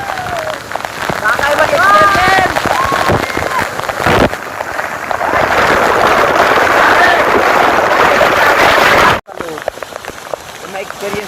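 Heavy, steady spray of a waterfall hissing like a downpour, loud and close from beneath it, with voices speaking over it and a brief cutoff near the end.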